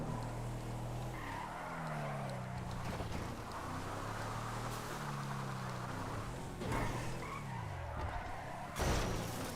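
A police car in a video game fishtails with revving engine tones that rise and fall, joined by tire squeals and skidding, loud and continuous, with sharp bursts near the end.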